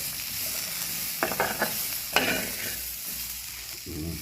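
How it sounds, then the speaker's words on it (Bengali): Chilies frying in a pan, a steady background sizzle with a few quick stirring clatters and scrapes in the middle and a softer rattle near the end. "মরিচটা ভাজিয়ে লই"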